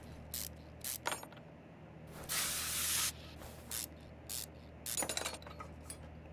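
Short bursts of spray paint hiss as a car part is coated in the Car Mechanic Simulator 2021 game, several brief spurts and one longer blast, separated by faint mechanical clinks over a low steady hum.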